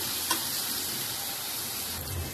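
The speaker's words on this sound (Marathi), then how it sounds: "कांदा माझे चांगले परतून झालेला आहे" Onions sautéing in a pan with garlic and chilli, a dense, even sizzle heard up close, with a brief clink of the spoon near the start and light stirring.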